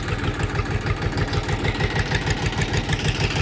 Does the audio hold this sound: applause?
no